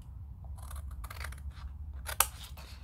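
Scissors snip through a small paper tab on a handmade gift box in a few quiet, close cuts, the last one sharper and louder, over a low background hum.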